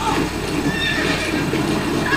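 A horse whinnies over the rumble of hooves in the video game Red Dead Redemption, a loud and steady stretch of game sound.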